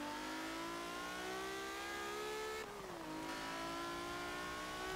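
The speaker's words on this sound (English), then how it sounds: "got the whine of that gearbox going as well" A car in Forza Motorsport 7 revs hard with a loud engine roar and a high gearbox whine climbing steadily in pitch, a brief shift dip midway, then rising again, heard alone.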